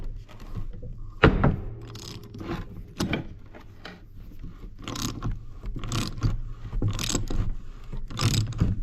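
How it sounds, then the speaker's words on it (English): Ratchet wrench clicking as it draws parts together on a John Deere 7000 corn planter during maintenance, bursts of rapid metallic ratcheting and clanks, close and fairly loud, with no talk. "you can actually begin to use the ratchet to draw that together"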